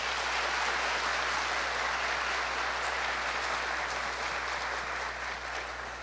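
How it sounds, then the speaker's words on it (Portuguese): Sustained audience applause at a Spiritist lecture, a dense, even wash of many hands clapping that stays steady throughout before easing slightly near the end, with no voices over it. "eu gostaria de pedir uma salva de palmas para todos eles"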